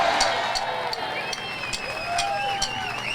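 A large outdoor rally crowd at a Never Again Is Now event in Melbourne cheers and applauds in a steady, dense wash of clapping and shouts, with whistles rising over it.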